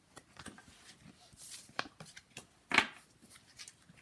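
Tarot divination cards are shuffled by hand in a soft flurry of riffles and slides, with a brief sharper snap near the middle, all fairly quiet and close.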